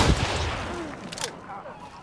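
Gunfire in Hunt: Showdown, a heavy booming shot at the start followed by rumbling reverberation and scattered lighter impacts fading over two seconds.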